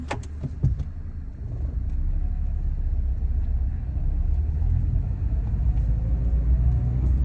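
A Mazda MX5 ND pulls away in cold British winter weather, its engine giving a steady low rumble close by after a few brief clicks and knocks at the start.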